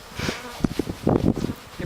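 Feral honey bees agitated during non-lethal sampling give off a low buzzing hum, close and moderately loud, with some faint rustling mixed in.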